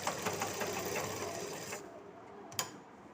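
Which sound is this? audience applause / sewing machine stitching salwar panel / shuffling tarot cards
sewing machine stitching salwar panel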